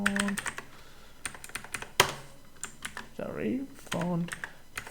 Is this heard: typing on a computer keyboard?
yes